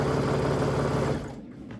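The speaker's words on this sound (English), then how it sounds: "and sew this down" A sewing machine stitches down pieces of a scrappy improv baby quilt in a steady, close, rapid mechanical whir that runs alone, then cuts off just before the end.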